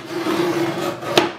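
A Dahle 562 or 868 guillotine paper cutter slices through three sheets of paper in one short rasping stroke with a scraping tone, ending in a brief sharp snap as the blade finishes, close up and with no talking.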